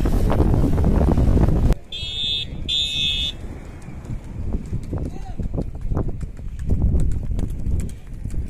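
Horse hooves clip-clop steadily on a hard path in Kashmir, mixed with a beeping buzzer early on and people talking nearby.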